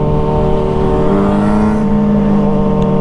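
Yamaha R6 or Kawasaki ZX6R sport motorcycle on a quickshifter, its engine holding a loud, steady high-revving drone close by with a slight pitch step partway through, no talking.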